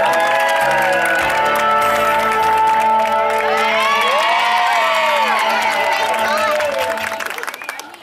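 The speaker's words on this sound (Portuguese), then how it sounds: "Uma salva de palmas para nossa homenagem." A crowd cheers, whoops and claps during a birthday tribute to a wife in São Paulo's zona norte, loud and sustained with high shouts over the applause before fading at the end.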